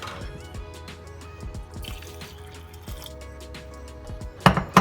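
Filtered water trickles and drips into a Vitamix blender holding raw squash soup ingredients, a soft liquid pour close by with no talking.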